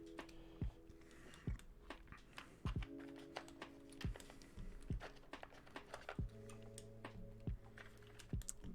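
Keystrokes on a newly built Austin v2 mechanical keyboard, a steady patter of clicky taps with occasional heavier thunks from larger keys, close and clear, with faint music playing underneath.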